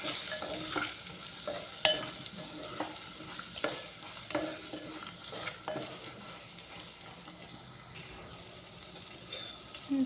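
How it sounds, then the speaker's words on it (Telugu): Spice powders, including chilli and coriander powder, fry in a pan while being stirred, with soft sizzling and irregular scraping taps throughout, close but faint with no talk. "అన్నీ మిక్స్ అయ్యే వరకు బాగా వేయించుకోవాలండి ఇవన్నీ."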